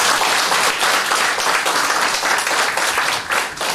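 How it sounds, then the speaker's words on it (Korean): Loud, dense applause from a congregation during a Sunday church service, continuous clapping filling the room for several seconds. "박수 한번 보내주세요."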